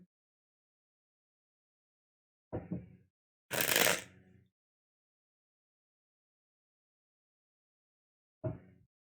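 Tarot cards are handled in a quiet room: a brief papery rustle, then a louder riffle-shuffle burst, and a final soft flick several seconds later, all close and isolated against silence.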